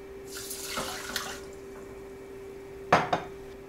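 Water splashes and pours into a medium pot holding rice and a big pinch of salt in a home kitchen, as a cup of water is added. A soft spread of pouring comes first, then two close, sharper splashes, under a steady low hum.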